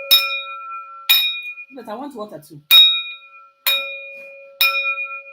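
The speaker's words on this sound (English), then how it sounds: "Like a bell-like sound." A quantum energy tableware plate is struck five times, each strike ringing out like a bell with a bright, sustained tone that decays slowly. A person speaks briefly between the first and second strikes.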